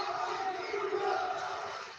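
Wrestling crowd at an NXT live event roaring in a sustained, dense wash of shouting and cheering that stays loud and steady throughout without a break.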